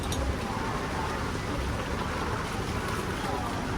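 Heavy rain pours down in a steady, dense hiss during a rainy-season outdoor setting, unbroken and loud from start to finish.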